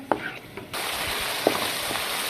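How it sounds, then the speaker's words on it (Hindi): Beef liver frying in a pan for a kaleji masala, a soft continuous sizzle close by, broken by a few brief clinks and stirring taps. "तो इसको हम थोड़ा सा ज़रा करते हैं, फ्राई करते हैं"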